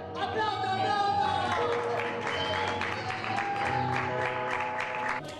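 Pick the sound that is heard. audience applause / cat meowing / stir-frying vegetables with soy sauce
audience applause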